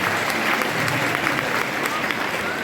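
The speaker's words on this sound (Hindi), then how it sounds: "देखो तालियां बजाओ तो एक बार सारे जोरदार बजा दो।" A live comedy show audience claps hard and continuously for a few seconds, a dense, even wash of applause with crowd noise underneath.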